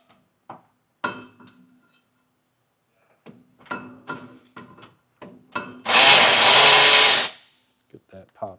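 Power tool loosening a 12mm bolt on a cap during a rear helper spring install on a 2025 Nissan: a loud, sustained burst of about a second and a half, with scattered clanks and handling knocks before and after.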